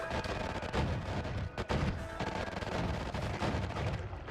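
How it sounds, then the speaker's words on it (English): Electric arc spell shot in the video game Noita, setting off a dense, continuous barrage of crackling explosions and booming bursts that fill the whole stretch with loud, rapid-fire blasts. "I can throw the electric arc onto our build here, and I shoot it."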